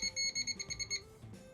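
A jack gives a rapid series of about eight short, high electronic beeps within a second, then stops, leaving faint background noise.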